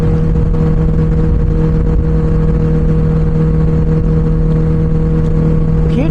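A Benelli 600i superbike's exhaust rumbles close and loud at steady idle-like revs throughout, a constant low engine drone with a slight rise at the very end, no voices.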